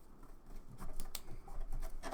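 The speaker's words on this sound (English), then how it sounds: "So putting the printed part down and fold all of the tabs back." Printed paper tabs on a model building being folded back by hand, giving close, soft crinkles and scraping creases in a steady run of small rustles, with no talking.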